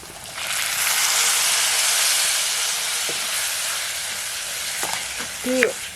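Green chilli curd curry being stirred in a hot pan, a broad steady sizzle that swells then settles, with a few faint utensil taps near the end.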